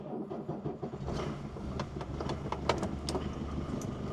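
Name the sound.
old car engine starting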